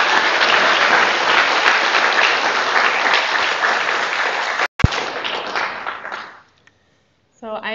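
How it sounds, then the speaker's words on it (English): Audience at a 2023 commencement ceremony claps and applauds steadily for several seconds, then a short clunk and the applause tapers into near silence before a voice starts. "Let's give him one more round of applause."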